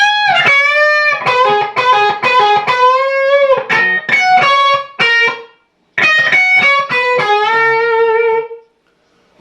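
A distorted electric guitar plays a one-measure lead lick, quick picked notes and bends in bursts with a short pause, loud and close with no talk.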